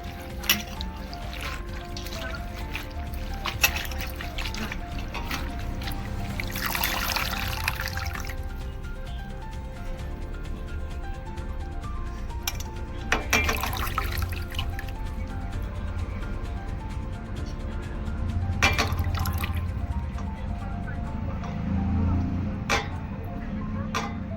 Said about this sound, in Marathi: आपण भाजी 2-3 पाण्याने स्वच्छ धुवूया.